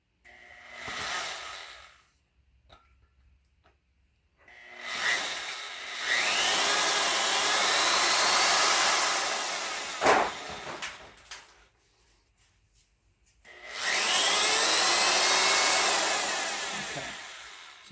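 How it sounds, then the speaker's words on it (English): A drill bores into a GM 2.4 Twin Cam engine block during a balance shaft delete, sounding as loud sustained high-pitched grinding bursts separated by quiet gaps, with a sharp clank near the middle. "So since that's flat, I'm actually going to start drilling."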